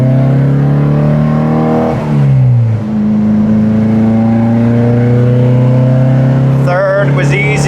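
A Porsche 914 with a 2.0 engine revs up loudly from inside the cabin while accelerating through first and second gear. The engine note climbs, dips at the shift and rises again as a steady, close drone, with a brief sharp rattle near the end.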